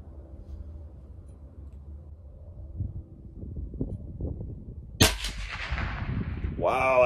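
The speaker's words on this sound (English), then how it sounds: "And we're ready to shoot." A CZ457 LRP rifle fires one shot of Aguila .22 Interceptor ammunition outdoors at 50 yards, a single sharp crack near the five-second mark with a brief ringing tail, preceded by quiet low wind-like background noise.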